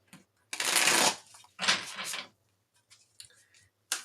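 Two loud riffling bursts of tarot cards being shuffled, followed by softer taps and a final snap as the deck settles; no voices.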